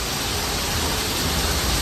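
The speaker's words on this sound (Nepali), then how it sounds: "एकछिन चुप्प लाग्यो भने आवाज सुनौँ है पानीको, ठ्याक्क मेरो आँखा अगाडि झर्ना छ" A waterfall near Siddhababa in Butwal roars loudly and without a break, a dense, constant wash of falling water right in front of the listener, with no voices over it.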